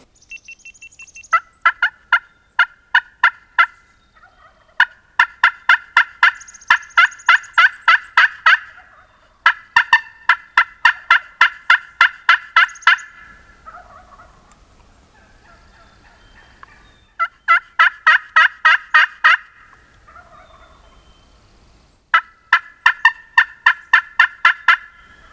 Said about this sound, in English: There is a hen yelping in front of us over here too, so I don't know if she has a gobbler